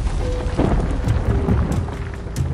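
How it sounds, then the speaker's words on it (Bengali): Loud thunder crashes and rumbles continuously, booming low through a storm soundscape with rain hissing in the background, with no voices present. "আচমকা খুব জোরে বজ্রপাত হলো"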